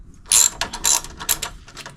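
Ratchet wrench with a 6 mm Allen bit cracking loose the front axle pinch bolts on a 2013 Yamaha FJR 1300 motorcycle, giving three or four loud, close bursts of quick pawl clicking separated by short pauses.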